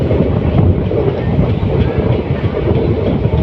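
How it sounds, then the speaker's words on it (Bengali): A diesel locomotive hauls ICF coaches through the Dooars, the cars clattering steadily with a dense, continuous rumble and rhythmic wheel clack close by, loud and unbroken. "ধক ধক ধক ধক আওয়াজটা সেই লাগে"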